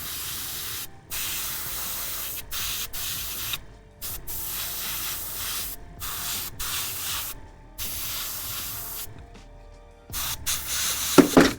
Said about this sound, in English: My compressor just vibrated off the edge of my little wooden platform here.